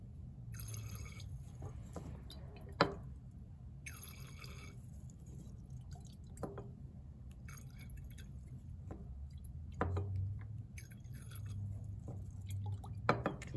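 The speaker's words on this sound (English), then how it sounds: "I just need to add increments and swirl" Titrant being added to a glass flask during a Ksp lab, with faint drips and soft sloshing as the liquid is swirled, plus occasional sharp clinks of glass, quiet and close with no talking.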